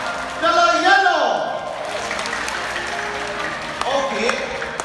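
Audience at a dolphin show in Dubai clapping, a burst of applause heard under a presenter's amplified voice and crowd noise, moderately loud and fairly brief.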